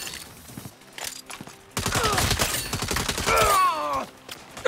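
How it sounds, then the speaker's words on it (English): Rapid gunfire in a Saints Row action game, a dense close volley of shots running under steady game noise, followed by brighter pinging metallic tones as headshots land. "Oh, those headshots are satisfying. That little sound that pings off."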